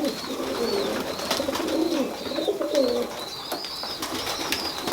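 A tippler pigeon coos close by in a run of soft, repeated rolling coos that keep going steadily with little pause, with no voices over them.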